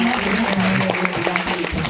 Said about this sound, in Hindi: एक बार तालियां सुनो भाई